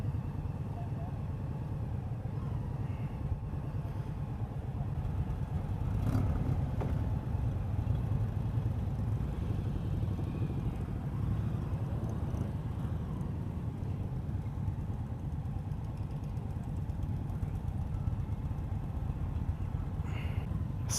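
A 2018 Indian Scout Sixty motorcycle engine runs steadily close by while the rider works the clutch, a low continuous rumble mixed with wind noise.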